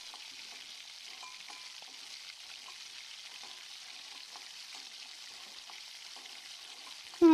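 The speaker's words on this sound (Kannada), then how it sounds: "ಇದು ಈರುಳ್ಳಿ ಒಗ್ಗರಣೆ ಕೊಟ್ಟು ಉಪ್ಪು ಖಾರ ಅರಿಶಿನ ಹಾಕಿ ಮಟನ್ ಕುದಿಯಾಕೆ ಇಟ್ಟಿನಿ." Onion tempering sizzles steadily in a pot for mutton curry, a faint, even hiss with light clicks of stirring throughout, ending in a brief louder knock.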